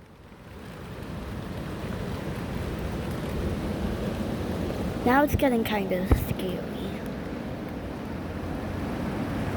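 A strong wind and rain storm roars as a steady, rushing background that builds slightly, with a few brief rattling bumps near the middle while a person speaks over it.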